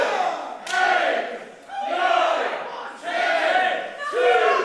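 A wrestling crowd at the Kurtis 'Mad Kurt' Chapman vs Kip Sabian match chants a count in unison for referee Tom Scarborough, roaring out loud, drawn-out shouts about once a second, with short dips between them.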